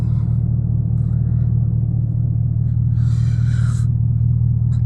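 A 5.0 V8 car idles with a deep, steady low rumble throughout, close and loud, during street racing, with a brief brighter rush of noise near the end.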